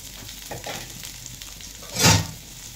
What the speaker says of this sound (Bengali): ভালো করে নেড়ে ছেড়ে ভেজে নেব